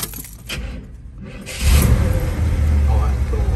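Keys jangle and a 1972 Chevrolet El Camino engine cranks and catches, settling into a loud, rumbling idle close by after the first couple of seconds.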